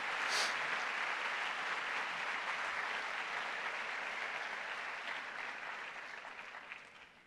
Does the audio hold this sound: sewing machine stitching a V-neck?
no